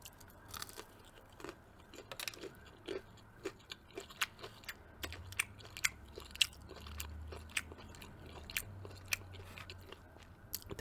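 Popeyes chicken strips eaten up close, quiet crunchy bites and soft chewing repeating irregularly over a low background, no voices.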